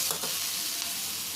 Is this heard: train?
no